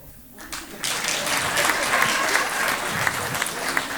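An audience at a French stand-up comedy show breaks into applause after a moment of quiet, the clapping building quickly into a full, sustained wash that continues to the end.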